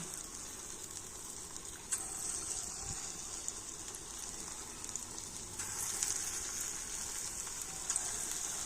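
Small fritters frying in medium-hot white oil, a steady close sizzle and bubbling hiss with occasional spits, no voices.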